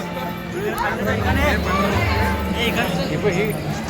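Crowd chatter fills the inside of the Mahalakshmi temple, a steady murmur of many voices close around, with a nearer voice speaking over the babble.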